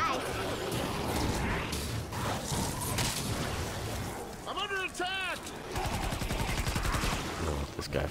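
Rapid video game gunfire aimed at enemies during a survivor rescue mission: dense, continuous bursts of automatic shots, with a brief lull and metallic whirring effects midway before the firing resumes in fast, steady rattling pulses.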